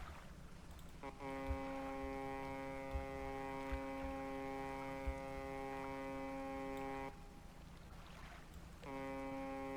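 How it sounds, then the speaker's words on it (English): A fishing boat's horn in the video game Dredge blares as a long, steady, loud tone for several seconds, breaks off, then sounds again over a low engine and water rumble. "I'm honking my horn like a madman."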